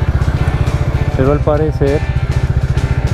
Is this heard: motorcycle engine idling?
yes